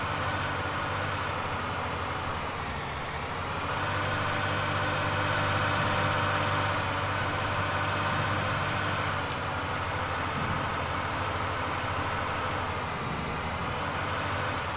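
Tractor engine in Farming Simulator 19 running with a steady low drone and idling hum, swelling slightly midway and staying constant throughout with no talking.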